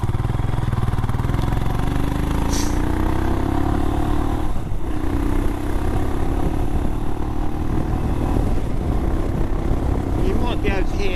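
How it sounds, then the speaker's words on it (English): A Royal Enfield Himalayan motorcycle with a full stainless steel Delkevic exhaust and long silencer drones steadily at speed, its deep exhaust note rising and falling slightly with wind rush over the microphone, close and loud throughout. "You might be able to hear I put a new exhaust system on, a full stainless steel Delvic with the long silencer on."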